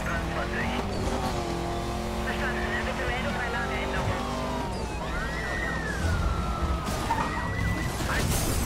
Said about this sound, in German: jetzt kommen von allen Seiten Polizeiautos